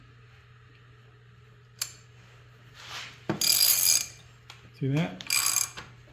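A ratchet wrench turns the screw of an old refurbished vise through a welded-on socket port, with a few bursts of fast clicking ratcheting near and loud, a brief voice in between.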